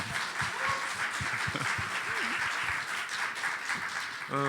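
Applause from the audience at a Korean health cities conference and general assembly, a steady wash of clapping with a speaker's voice audible over it.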